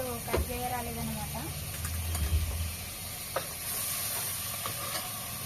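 Mutton sizzling and frying in a pan while being stirred, a steady close hiss with scraping stir strokes and occasional clinks throughout.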